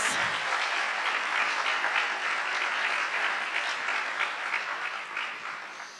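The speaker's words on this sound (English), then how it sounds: "One more round of applause for all of our 20 years" Audience applause at a general staff meeting honoring long-service employees, a dense, steady wash of clapping from a room full of people that thins out toward the end.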